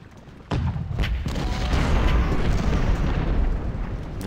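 A sudden heavy cannon blast booms, followed by more artillery shots and a rolling rumble of continued fire in a battle of Cold Harbor in the game Ultimate General: Civil War.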